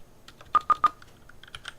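Keys clack on a computer keyboard as an npm install command is entered, a short burst of three sharp, close strokes followed by a few lighter taps, with no voices.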